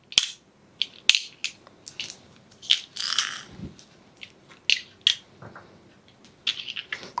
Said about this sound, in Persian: الان من این سیر رو با سیر خوردش میکنم